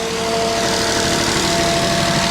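Mineral foam production machinery runs loudly and without a break, a dense mechanical drone with a steady whine on top that fills the space, and no one speaks.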